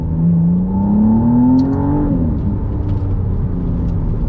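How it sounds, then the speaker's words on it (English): McLaren Artura V6 engine downshifting, a loud sustained engine note that climbs in pitch, then blips and drops as the gear changes, with gravel crunching under the big tires. "let me give you a few downshifts"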